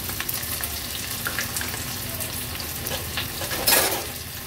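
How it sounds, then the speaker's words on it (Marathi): Finely chopped medium onion and two green chillies frying in hot oil for an Agri-Koli style fish curry, a steady close crackling sizzle with stirring scrapes and a brief louder burst near the end. "एक मीडियम साईजचा कांदा बारीक चिरून घेतलाय तो ऍड करूया आणि 2 हिरव्या मिरच्या घेतल्या आहेत आपण।"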